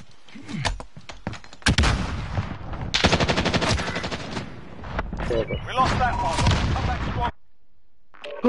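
Loud bursts of automatic gunfire, several volleys with short gaps between them, ending abruptly.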